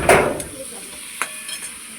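Spices (ginger, cumin, coriander powder, garlic paste) with tomato and green chilli frying in oil in a pan for a vegetable dal, a loud burst of sizzle and stirring at the start, then quieter scrapes and a couple of sharp clinks.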